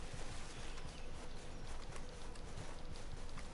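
Horse hooves clopping steadily while riding in a PS4 game, a fast, even rhythm of soft thuds under a constant wash of background noise, moderately quiet with no voices.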